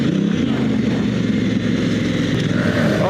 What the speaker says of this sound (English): That shift into second gear does have to be quick though.